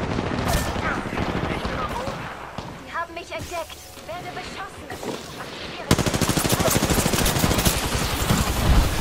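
Rapid automatic gunfire from the battle royale shooter Apex Legends, dense bursts of rounds that thin out mid-clip and then return as a loud, sustained stream of fire, with a German-speaking character voice heard over it.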